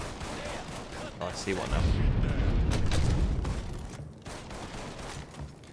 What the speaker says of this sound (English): But they're still shooting down there as well.